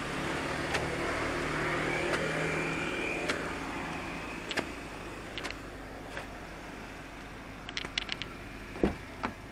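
A car, a hired ride-hailing vehicle, approaches and pulls up on a street, a steady engine hum building under traffic noise with a few sharp clicks and knocks near the end, no talking.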